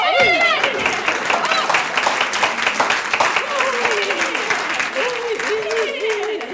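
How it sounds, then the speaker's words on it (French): Loud, dense audience applause at a 1976 stage show, continuous clapping with shouts and voices rising through the crowd noise. "on l'applaudit tout aussi fort"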